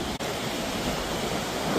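Dense, unbroken rush of water from the Someshwar waterfall on the Godavari in Nashik, flowing strongly after heavy rainfall; a close, loud wash of sound with one brief dropout near the start.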